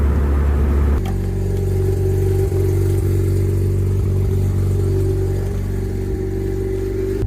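A Mazda RX-7 FD runs on a dyno during testing, its engine loud and close. After a brief start it settles into a sustained steady drone, with no voices heard.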